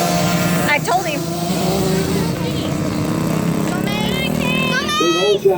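Several KTM junior 50 dirt bikes race from the start with a steady, high-pitched engine drone that rises and falls as they rev, while a crowd and nearby children talk underneath.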